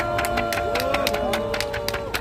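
Participants at an outdoor press conference clapping, a steady crowd applause of many hands with cheering voices mixed in, loud and close.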